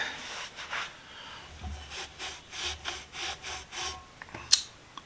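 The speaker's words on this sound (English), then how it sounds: "aggressive sandpaper, sand along here" Aggressive sandpaper scrapes back and forth by hand, about eight rhythmic, fairly quiet strokes in steady succession, ending with a short sharp tap.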